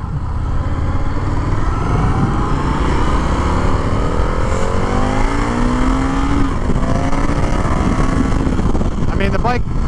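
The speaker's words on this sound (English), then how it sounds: "Bike pulls off the lawn like a rocket ship." An Indian FTR R Carbon motorcycle pulls away from a lawn, its engine revving and rising in pitch as it accelerates, loud and continuous, with a voice speaking over the noise.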